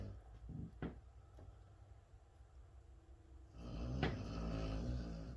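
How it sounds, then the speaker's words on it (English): A person snores nearby, with one quieter breath early on and then a louder, rougher snore swelling in the last couple of seconds, heard low and muffled in a quiet room. "stop snoring"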